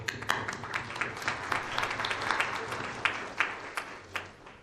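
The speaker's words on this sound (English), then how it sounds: "And I'm going to clap" Audience at a political gathering of Western Balkans leaders claps in a fairly quiet, scattered way, individual hand claps standing out against a soft room background.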